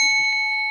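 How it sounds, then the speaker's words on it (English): A meditation bell struck once at a sitting session, a clear sustained ring with steady overtones, near and loud, decaying slowly on its own. "strike a bell."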